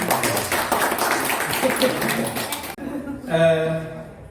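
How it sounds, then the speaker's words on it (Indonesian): Crowd applause at a public gathering of community organisations in East Kalimantan, a dense steady clatter of many hands lasting a few seconds before cutting off, followed by someone speaking over a microphone. "Tepuk tangan dulu nih."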